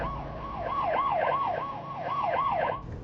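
An ambulance siren wails nearby, its pitch rising and falling in quick repeated cycles, loud and steady before it abruptly cuts off at the end.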